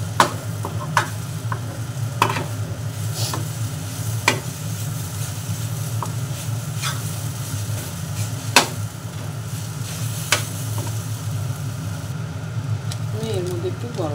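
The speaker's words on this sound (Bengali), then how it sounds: "দেখুন নুনটা মিশিয়ে দিলাম।" Salt being stirred into a vegetable mixture in a pan for cheese rolls, a steady low sizzle with occasional sharp scrapes and clicks of the spoon against the pan, while a voice talks faintly in the background.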